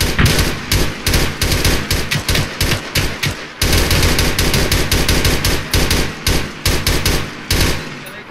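Gunfire in the Arma video game during a Zeus co-op town assault mission: a loud, near stream of rapid automatic bursts with brief gaps between volleys.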